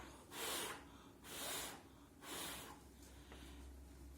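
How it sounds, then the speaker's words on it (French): Three soft breaths are blown one after another onto paper runes during a beauty and youth rune-magic ritual, each a close, airy whoosh lasting about half a second, with quiet pauses between them. "Vous soufflez 3 fois sur les runes."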